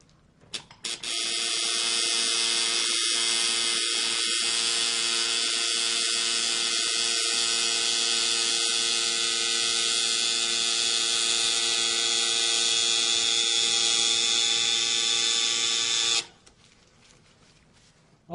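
A tattoo machine buzzes steadily and close for about fifteen seconds, a high electric hum with small stutters, then cuts off abruptly.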